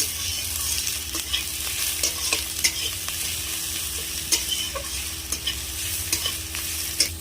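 Ginger paste being fried and stirred in a little oil with cumin seeds, panch phoron, chopped onion and slit green chillies; a steady close sizzle with repeated sharp scraping clicks from the stirring utensil and no speech.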